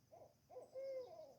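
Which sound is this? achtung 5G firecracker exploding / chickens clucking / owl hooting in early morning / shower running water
owl hooting in early morning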